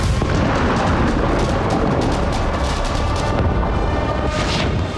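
Israeli air strikes on Lebanon set off heavy, continuous explosions, a loud rumbling barrage of booms that overlap without pause.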